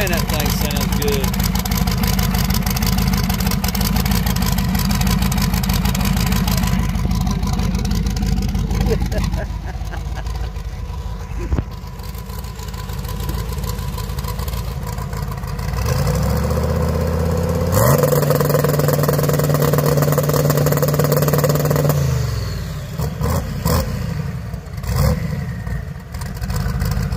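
An 800-horsepower S10 pickup truck engine idles with a loud, lumpy rumble, then revs up in several rising bursts before settling back; people talk over it nearby.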